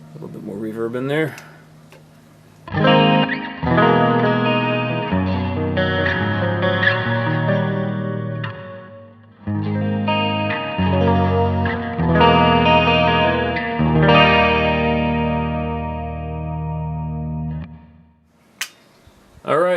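Chorused electric guitar with added reverb and a little delay through a Kemper amp running a Splawn Nitro profile, loud strummed chords with a few brief pauses between phrases, fading out near the end.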